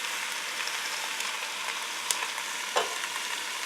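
Onions, garlic and bay leaf sizzle in a stew pot over medium-high heat for a Guinness beef stew: a steady, close frying hiss with a couple of faint clicks and no talking.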